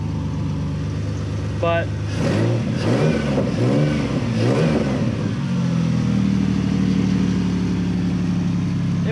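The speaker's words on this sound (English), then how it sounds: "We are missing at least one gasket from the Y pipe down to the single pipe on the exhaust, so still a little loud" A 2001 Ford Ranger fitted with a Mustang engine, its exhaust missing a gasket between the Y pipe and the single pipe, revs up loudly several times and then settles into a rough, throaty idle, close by, with a brief spoken word.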